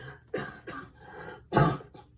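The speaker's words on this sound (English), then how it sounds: "My cough gets activated." A few short, breathy coughs close by, the last one sharper and louder, with a little throat clearing between them.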